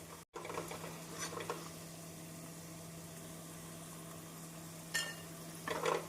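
Potatoes deep-frying in oil in a pan over a medium flame, giving a steady, close, low sizzle and bubbling throughout, with a couple of brief brighter clatters of a utensil near the end.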